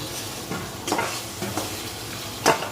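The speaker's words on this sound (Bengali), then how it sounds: "এবারে টমেটোর সাথে মশলাকে হালকা ভেজে নিচ্ছি" Chopped tomato and spices fry in a pan for fish-head muri ghonto, heard as a soft sizzle broken by rhythmic scraping stirs of a spoon, with one sharper scrape near the end.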